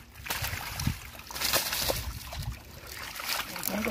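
Water runs and sloshes as fish are unloaded at a Saudi Arabian fish market, a continuous splashing wash with voices talking over it and busy handling noise around.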